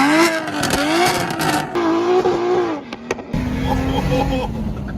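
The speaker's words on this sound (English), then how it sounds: "I'll post a clip here of the M3 that it came off of that we filmed a few months ago" BMW M3 fitted with a single turbo kit driving, its engine revving loudly with rising and falling pitch throughout, a brief lift near the middle and a harsher, rougher note toward the end.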